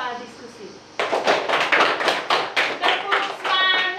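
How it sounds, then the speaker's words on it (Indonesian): Children in a classroom clapping their hands together in a brief burst of rapid, somewhat uneven claps, loud and close, with voices mixed in. "Tepuk tangan untuk kalian karena kalian sudah membahas soal diskusi"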